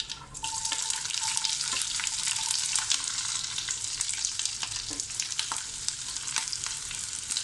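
Mustard seeds, onion and green chili fry in coconut oil for a steady, loud sizzle with crackling pops and occasional stirring scrapes throughout.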